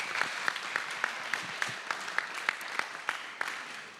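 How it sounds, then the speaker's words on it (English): An audience at an indoor festival talk applauds a studio's presentation with steady, moderately distant clapping that runs through the whole clip, with no talk over it. "please give a round of applause to Mathilde."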